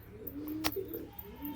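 Pigeons at a loft give a faint, low coo with a brief chirp amid quiet background noise, heard at a distance with no speech.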